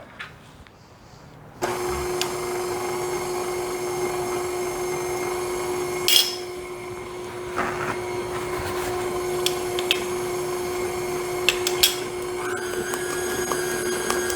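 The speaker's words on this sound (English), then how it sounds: "So I'm going to stir this up, mix it up." Electric stand mixer whirring as it blends lemon lime cake batter, a steady close motor hum with occasional clicks and scrapes over it.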